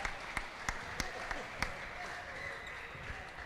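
An indoor racquetball crowd at a match in Tampa breaks into applause after an ace serve, with scattered sharp claps and ball-like thumps early on, then a fainter sustained clapping that trails off.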